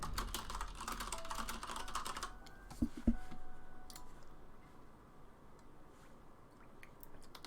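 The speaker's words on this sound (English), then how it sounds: "Sorry for keyboard noises." Keys clatter on a computer keyboard late at night, fast rapid typing at first, then a couple of sharper clicks and sparse, quieter taps trailing off.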